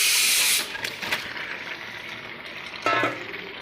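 Chicken dropped into a hot pan for biryani: a loud burst of sizzling hiss that quickly settles into a softer steady fry, then flares briefly again near the end.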